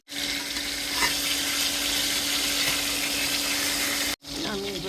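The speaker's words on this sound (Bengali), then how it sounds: "একটু লাল করে ভেজে নেবো মাছটা।" Fish fries in hot oil, a dense, even sizzle close by that holds for about four seconds, cuts out briefly, then resumes with some clatter.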